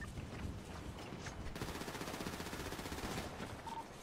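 Rapid video-game gunfire from shotguns and full-auto weapons crackles in a dense, continuous volley, fairly faint and distant-sounding throughout.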